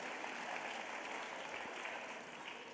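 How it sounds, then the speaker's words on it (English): A crowd applauds a teacher at a school district Teacher of the Year celebration, a faint, distant, dense patter of clapping that stays even before tapering slightly at the end. "A big round of applause for Trixie Slaughter."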